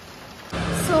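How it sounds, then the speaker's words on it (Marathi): Rain falls outside, a soft hiss that rises partway through a very short moment and stays steady and moderately near. "आणि बाहेर मस्त पाऊस पडतो."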